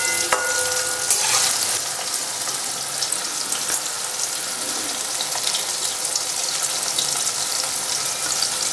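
Corn kernels fry in a pan on high heat for crispy chilli corn, giving a loud, steady sizzle with occasional stirring scrapes and splashes throughout, no voices.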